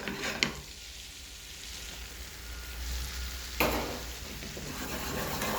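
Brown flour sizzling and frying in a pan for a dark roux, a steady low hiss throughout with a soft clatter or stir near the start and another sharper scrape partway through.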